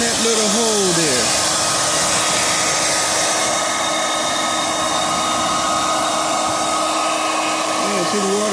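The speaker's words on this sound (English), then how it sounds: "Now you turn on your hair dryer" A hair dryer blows steadily and loudly into the icemaker of a Samsung refrigerator to melt ice, a continuous close whooshing roar with a constant motor whine and no break.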